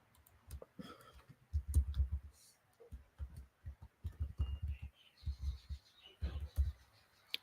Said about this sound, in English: Just have to type in my email here so I can read this article.